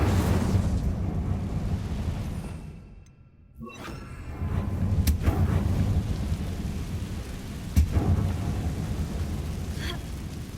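The Incendio fire spell is cast in Hogwarts Legacy, producing a rumbling whoosh and booming burst of flame that cuts out briefly, then swells again with sharp crackling hits over a dense, roaring background.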